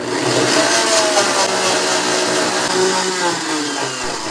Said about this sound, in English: I'll put the lid on, and I'll blend that for about a minute and a half, 2 minutes.